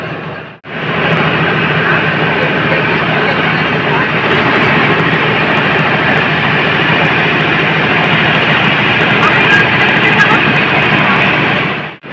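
A ferry launch pulls away from Mayapur toward Nabadwip, its engine a loud, steady rumbling drone that runs without a break for about eleven seconds after a short quiet start.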